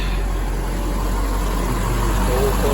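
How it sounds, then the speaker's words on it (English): A C4 Corvette's LT5 V8 idles steadily with the air conditioning running, a constant low engine hum close by, with a faint voice murmuring over it. "LT5 still running with the air condition"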